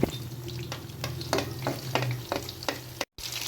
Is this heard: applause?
no